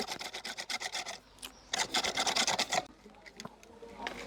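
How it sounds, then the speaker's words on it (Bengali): Someone bores a hole in wood while building a hookah, a close rhythmic rasping and scraping in repeated strokes that pause briefly and then resume. "এটা ফুটো করতেছি।"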